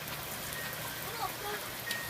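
Pouring rain makes a steady, soft hiss throughout, fairly quiet, with a few faint drips standing out.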